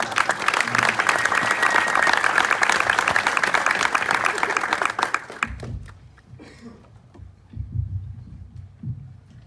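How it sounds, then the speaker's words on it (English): Applause for a speaker at a town hall, a dense crowd clapping for about five seconds before cutting off to quiet room noise and shuffling. "Let's give her a nice round of applause."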